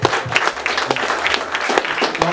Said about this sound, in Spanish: Un aplauso para todos, por favor.